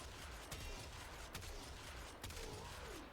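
Corinth Prime shotgun blasts in the video game Warframe, a few heavy shots fired in quick succession under a dense, noisy wash of game effects.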